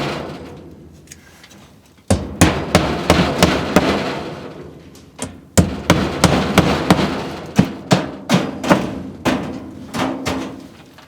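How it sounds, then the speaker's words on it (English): Hammer blows drive nails through a lintel into wooden framing over a window in a bottle-and-can wall, a steady series of loud, close, sharp strikes in two runs separated by a short pause. "I can nail this up to the framing, and that will be my first point of attachment."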